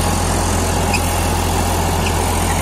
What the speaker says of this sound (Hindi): फुल है ट्रैक्टर चल रहा है कोई दबाव नहीं मान रहा हुआ है ट्रैक्टर